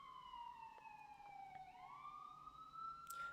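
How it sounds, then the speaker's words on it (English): Emergency vehicle sirens pass outside, wailing in sweeping rising and falling tones that are faint and distant, with no talk. "sorry about the sirens"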